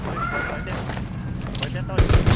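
Gunfire in the battle royale video game Rules of Survival, a loud burst of shots near the end over a dense game soundscape, with players talking throughout.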